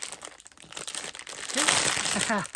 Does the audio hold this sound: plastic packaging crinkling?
yes